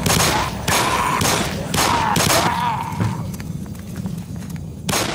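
Heavy gunfire in the Black Mesa game, a run of loud close shots and rapid bursts with a whining tone under them, fading to rumbling echo before one more sharp blast.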